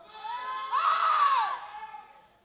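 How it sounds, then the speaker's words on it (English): A crowd at a junior powerlifting championship cheers on a lifter, led by a loud, high sustained shout that swells and fades over a couple of seconds. "Being cheered on from the crowd."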